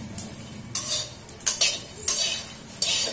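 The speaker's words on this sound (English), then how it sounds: "So I am going to dry roast all the groundnuts here." Groundnuts dry roasting in a pan over a medium flame, giving a run of dry rattling stirs and scrapes against the metal that come in several bursts over a faint background.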